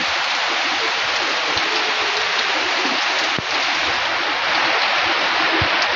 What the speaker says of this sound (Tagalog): Kusog kayo ang ulan diri guys. Sayo pa kay ulan nagbundak na.